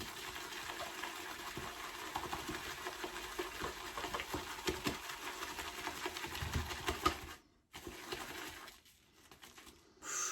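Shaving cream being whipped with a few drops of water in a lathering bowl, a steady wet swishing and churning that runs continuously, then stops briefly near the end before resuming.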